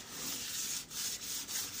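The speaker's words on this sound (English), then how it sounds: "I'm going to start by starting to scrub off my window first." Glass oven window being scrubbed clean after an oven fire, a steady close rasping rub in repeated strokes with brief pauses between passes, no voices.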